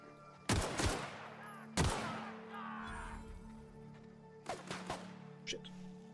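Gunfire in The Outer Worlds video game: two loud, separated shots, then a later burst of several quicker shots over a low background hum.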